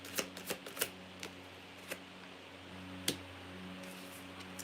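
Oracle cards are shuffled with a series of sharp, close flicks and snaps, several quick ones early on and then sparser clicks over a quiet low hum.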